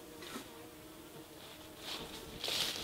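Honeybees hum in a dense, steady buzz at an opened hive after a light puff of smoke, swelling louder toward the end, with no talking.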